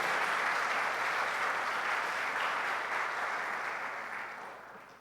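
A church congregation breaks into loud, sustained applause that holds steady for several seconds, then gradually tapers off at the end, with no voices over it.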